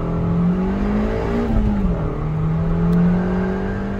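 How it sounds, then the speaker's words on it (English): A stock Ford Fiesta ST engine revving on a dyno drones steadily with slight pitch shifts as revs change, a low rumbling tone heard close and continuous. "So here is the sound of the stock car."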